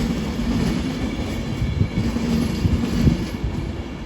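Class 390 train 390-008 moves through London Euston on the West Coast Main Line, a low rumble of wheels and motors with faint squeal and rail clatter, heard alone at moderate distance.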